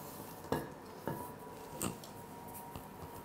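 Thick Sudanese Kahk cookie dough being mixed by hand with a dough whisk in a bowl, giving a few separate knocks and scrapes against the bowl at irregular intervals, quiet and close, with no talking.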